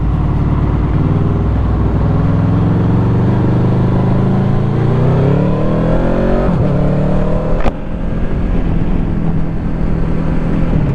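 A Honda VFR800F motorcycle engine rises and falls in pitch as the rider accelerates on the road, loud and steady throughout with continuous wind and road roar.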